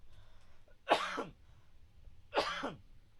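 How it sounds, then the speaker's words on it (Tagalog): Two sharp, separate coughs about a second and a half apart, close and fairly quiet, each a short harsh burst over faint room noise. "Pasensya na po, may ubo pa rin ako."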